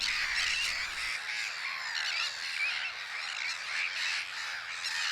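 A nesting colony of Sandwich terns on coastal islets calls continuously, a dense chorus of harsh, grating squawks from many birds at once, fairly close and steady throughout with no talking.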